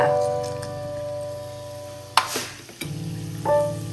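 Peppercorns, cloves and cardamom hit hot oil and sizzle with a close, crackling hiss, broken by a couple of sharp clatters as spices drop in, over a low steady hum.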